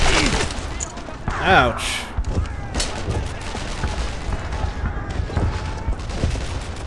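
Rapid gunfire bursts crackle in Brothers in Arms: Earned in Blood, a World War II shooter, with sharp reports early and scattered shots continuing under a player's brief pained exclamation.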